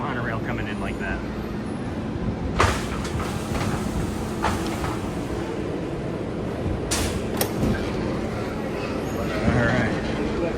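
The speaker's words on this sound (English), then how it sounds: "One of my favorite shots that we get anytime we do it is this monorail coming in like that." A Disney World monorail pulls in, a steady loud rumble of rail travel filling the scene with a few sharper clunks, while voices talk over it.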